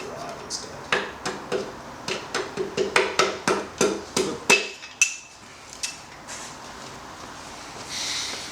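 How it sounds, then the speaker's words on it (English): A metal rod is struck by hand in a series of about a dozen sharp, ringing hits, fairly close and evenly spaced at first, then spreading out and fading as the striking stops. "Just gonna hit the rod instead."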